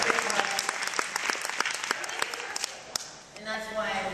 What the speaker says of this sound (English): So clap your hands if you like water.